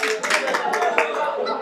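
An audience claps together at a light-hearted comedy stage show, a dense burst of hand claps spread across the room, with some voices mixed in.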